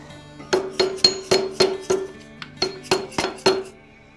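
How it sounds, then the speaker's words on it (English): A soft blow hammer taps an engine part into place on a car, giving about a dozen sharp, ringing metallic knocks in a steady rhythm with one brief pause partway through. The blows are close and distinct, with no talking. "we're probably just gonna give it a little tap with a soft blow hammer"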